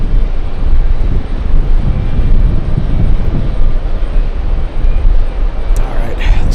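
An Air India airliner powers up for takeoff at JFK airport, a loud, continuous deep engine roar with rumbling low end that holds steady throughout, close and dominant.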